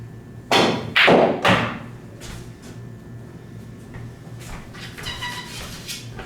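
Pool balls on a billiard table knock together in a quick cluster of three sharp clacks, followed by fainter rolling and softer taps in a quiet room.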